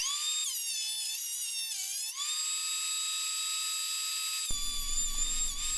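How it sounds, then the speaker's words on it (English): A thickness planer whines loudly and steadily as it takes light passes on maple boards; its pitch dips briefly under load, then a rough rumbling cut sets in near the end. "When planing the boards, I only took a 64th of an inch off each pass to prevent tear out on the board's face."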